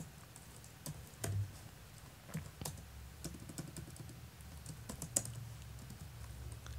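Fingers tap quickly on a computer keyboard while writing Java code in NetBeans, a close, uneven run of light clicking keystrokes with short pauses between bursts.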